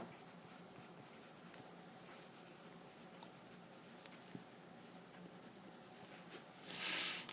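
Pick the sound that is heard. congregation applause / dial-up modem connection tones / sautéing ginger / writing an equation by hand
writing an equation by hand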